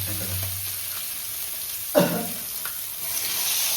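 Fish fries in a pan with a steady, close sizzle, and a sharp clatter of a utensil against the pan cuts through once midway.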